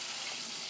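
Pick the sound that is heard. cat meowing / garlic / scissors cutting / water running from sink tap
water running from sink tap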